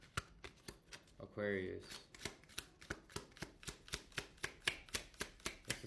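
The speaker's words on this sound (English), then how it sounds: "Let's shuffle these cards." Tarot cards are shuffled in a steady run of quick, crisp slaps, with one longer riffle in the middle, close to the microphone while a voice speaks briefly.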